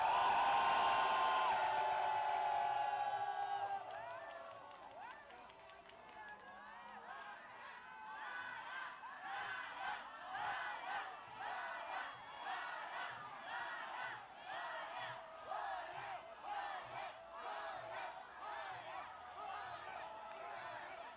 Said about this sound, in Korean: 주저에게 큰 박수 부탁드립니다.